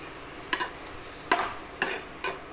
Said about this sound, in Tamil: போட்டு அதையும் சேர்த்து வதக்கிக்கலாம்